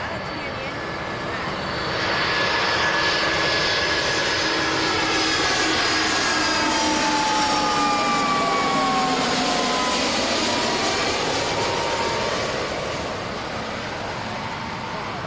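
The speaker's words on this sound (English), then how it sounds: "Is there a jet coming?" A jet aircraft passes over a parking lot at an amusement park, its loud roar swelling, holding steady, then fading over about fifteen seconds, with faint outdoor ambience and a distant voice underneath.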